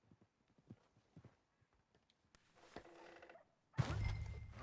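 Horses from Red Dead Redemption 2 clatter past, with scattered hoof clops at first building into a busy rush and a loud, close burst of galloping and thudding at the end.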